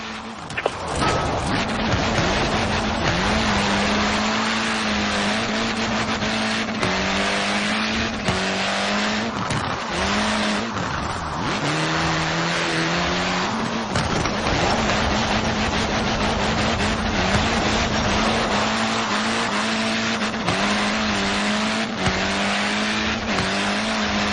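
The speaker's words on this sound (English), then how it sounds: "Steer and counter steer. Enough throttle to push the power slide, enough brake to hold your grip." Car drifting in Forza Horizon 4 with a loud, sustained engine under throttle and tyres squealing through a long power slide, the engine pitch rising and falling as it steers and counter-steers.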